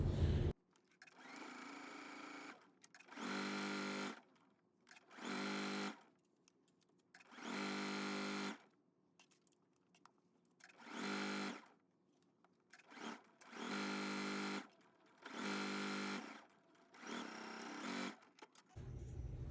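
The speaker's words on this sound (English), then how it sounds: "Take this to your sewing machine and sew it at 5/8." A sewing machine runs in eight short bursts of rapid stitching, each a few seconds long, separated by quiet pauses; close and clear, no talking.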